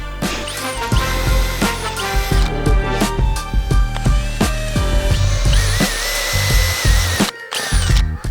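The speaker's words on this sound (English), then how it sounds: "But first we pre-drill" A power drill pre-drills screw holes in parts for a fridge-box tiny home upgrade, loud and close, with repeated short whirring bursts starting and stopping in quick succession.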